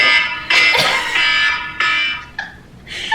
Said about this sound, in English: we never talked about her foghorn alarm